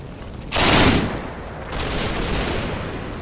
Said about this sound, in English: I think these guys are firing at the moment.